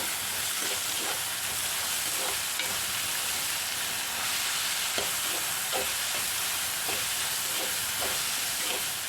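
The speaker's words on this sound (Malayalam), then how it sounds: "ഇനി നമുക്ക് അരിഞ്ഞു വെച്ചിരിക്കുന്ന പാവയ്ക്ക ഇടാം ഒരു ടീസ്പൂൺ ഉപ്പിട്ട് കൊടുക്കാം നന്നായിട്ട് വഴറ്റി കൊടുക്കാം" Chopped bitter gourd with a teaspoon of salt sautés in a hot pan for bitter gourd theeyal, a dense constant hiss of frying overlaid by a regular rhythm of spatula strokes scraping through the pieces, no speech.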